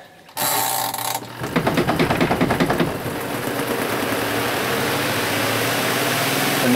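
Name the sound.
portable washing machine running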